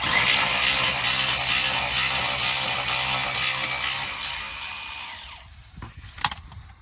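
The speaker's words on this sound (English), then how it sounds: "Get this little 7. Yeah. the 7 to get the heat shield off." A 7mm socket on a powered tool whirs steadily and loudly while removing bolts from a car's heat shield, then cuts off and is followed by a few faint clinks and handling noises.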